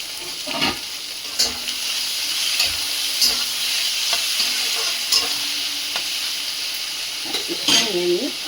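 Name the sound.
prawns frying and being stirred in a pan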